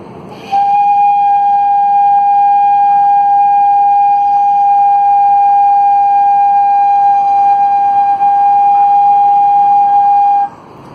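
A single bamboo flute note held steady and clear for about ten seconds, pure-toned and unwavering, with no talking.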